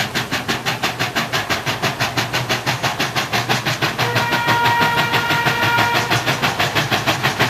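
A steam locomotive on the Chengde Steel railway hauls a train uphill, its rhythmic chuffing exhaust beats steady and loud throughout, with clanking wagons and a sustained whistle-like tone joining in the second half.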